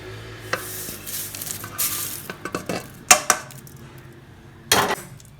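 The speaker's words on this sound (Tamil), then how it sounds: "இது மாதிரி கொஞ்சம் அனல் ரொம்ப கம்மியாக வச்சு வறுத்து எடுத்து கொட்டிக்கலாம்" Curry leaves dry-roasting in a pan over a very low flame, with soft crackling and scraping stirs, a few sharp clinks of utensil against the pan, and brief louder rattles between quieter stretches.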